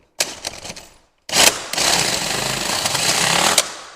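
A power drill with a half-inch bit bores through a small metal rail in a sliding patio door, starting with a short burst and grab, then a pause, then a loud sustained grinding whine up close.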